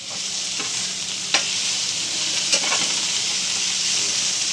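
Tamarind fries in hot oil for a spinach chutney, giving a continuous hissing sizzle with a few sharp clicks of a stirring spoon.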